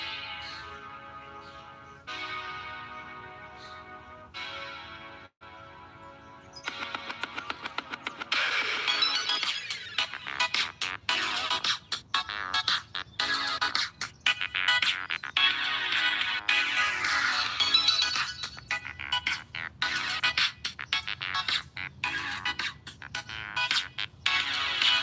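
Ringtone playing through the speaker of a OnePlus 6 phone, a faint melodic tune that starts soft and grows busier and brighter, continuing steadily for about 25 seconds with no talk over it.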